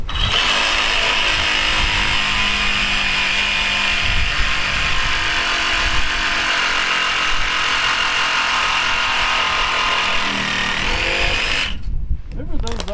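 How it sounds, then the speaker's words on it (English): A reciprocating saw with a used blade cuts through a half-inch-diameter soft metal part on an old stepside truck, a loud, steady buzzing rasp that runs continuously for about twelve seconds, then stops abruptly. "you see how quickly that just cut right through it. With a used Sawzall blade"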